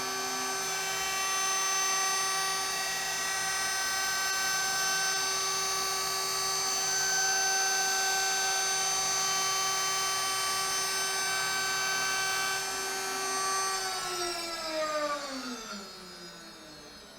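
CNC router spindle cutting a wood inlay, a loud, sustained high-pitched whine with layered harmonic tones that holds steady, then drops in pitch and fades as it spins down near the end.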